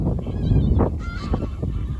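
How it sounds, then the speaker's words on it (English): Geese honk a few times in quick succession, fairly close and clear over a low background rumble. "just listening to geese"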